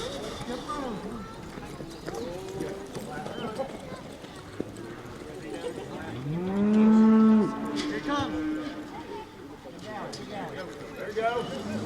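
A 1,000-pound cow being loaded at a ranch lets out a loud, drawn-out moo amid hoof clatter and shuffling livestock, with people talking nearby throughout.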